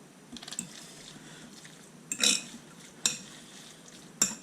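A spoon scrapes and clinks against a bowl while chicken enchilada filling is mixed, a few distinct metallic knocks spaced a second apart over quiet background.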